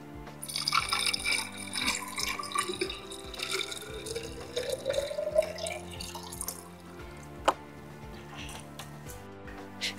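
A water and acid solution is poured slowly into a plastic dish holding a salt chlorine generator cell, making a continuous gentle liquid trickle with faint drips and a steady background hum.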